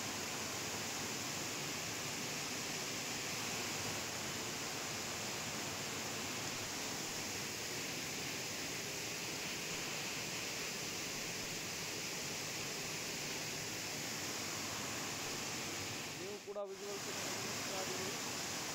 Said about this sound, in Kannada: ನೀರು ಕೆಳಗೆ ಧುಮ್ಮುಕ್ತಾ ಇದೆ ಅನ್ನೋದನ್ನು ಗಮನಿಸ್ತಾ ಇದ್ದೀರಿ